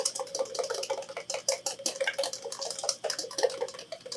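Eggs whisked by hand in a bowl for hollandaise sauce, a quick, steady clatter of whisk against the bowl with small metallic ticks, continuous and fairly close, with no voices.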